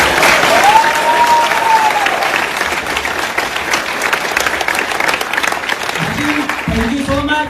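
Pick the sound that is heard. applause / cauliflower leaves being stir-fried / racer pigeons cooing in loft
applause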